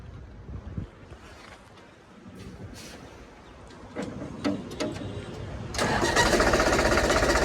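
A 2018 New Holland tractor engine cranks and fires, building from quiet outdoor background into a steady, loud running rumble near the microphone.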